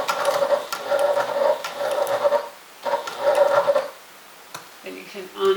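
A sewing machine stitching a makeup bag runs in steady bursts with short pauses between them. It sounds close and moderately loud, with brief handling clicks at the end and no speech.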